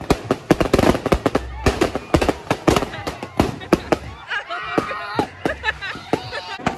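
Fireworks crack and pop in rapid, irregular bursts at a Fourth of July celebration, some loud and close, with people chattering in the background.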